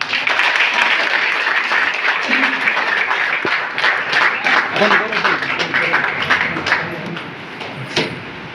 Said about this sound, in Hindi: एक बार ताली बजा कर बता